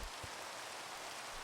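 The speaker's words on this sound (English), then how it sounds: "Now, I'm gonna go sleep because I hate the rain." Steady rain falls in the Minecraft survival world, a soft even hiss of drops with a couple of faint low thumps early on, no voices.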